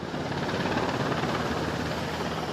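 A fire-fighting helicopter from the airborne service flies over a forest fire at Caoling in Gukeng, Yunlin, on a water-drop run. It gives a steady, loud, continuous rotor-and-engine roar with no voices.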